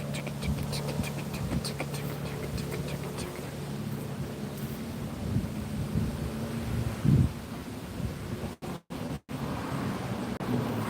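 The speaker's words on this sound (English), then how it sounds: "It's gonna be a good storm, though." Low rumbling thunder from an approaching storm rolls steadily through the whole stretch, mixed with wind and rain-like noise, with a couple of brief dropouts near the end.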